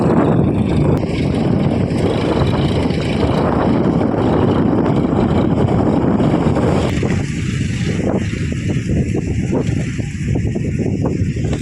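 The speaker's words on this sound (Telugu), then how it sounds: "గాలి అయితే ఫుల్గా తోలుతుంది ఫ్రెండ్స్, గాలి." Strong, steady wind roars across the microphone over a farm field with a deep continuous rumble and gusty buffeting, loud and unbroken throughout.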